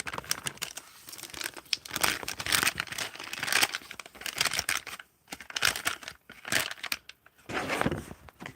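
A plastic package with a Ziploc-type seal is torn and pulled open up close, giving bursts of crinkling and tearing rustle with short pauses between them.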